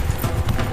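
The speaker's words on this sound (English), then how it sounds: "400 years later, over 1 million Mustangs run wild." Hooves of wild mustang horses galloping across the Great Plains: a short, loud, dense clatter of rapid thudding beats, close and continuous.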